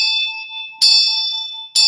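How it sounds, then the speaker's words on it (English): A small Tibetan bell rings clear and bright, struck twice with a sustained, slowly pulsing tone ringing on between strikes, close and alone. "The ringing of the bell purifies the atmosphere around us."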